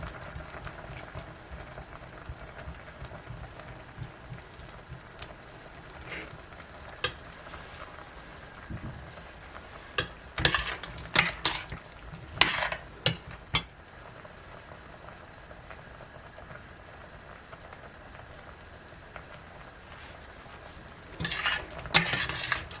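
Curried carrots simmer in a pot with a low, steady bubbling, broken by scattered bursts of a spoon scraping and clinking against the pot as it is stirred.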